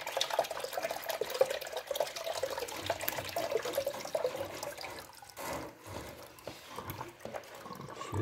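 Water gurgling and splashing out of a clogged household radiator as air is bled from it, a steady rushing trickle with a few bubbling surges, fairly close and moderately loud, with no talk.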